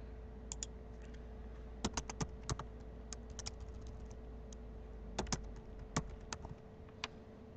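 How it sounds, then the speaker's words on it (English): Keys tapped on a computer keyboard while entering a password, scattered clicks in short irregular bursts over a steady low hum, close and fairly quiet, with no talking. "So we just type in admin, and then you have to type in a password."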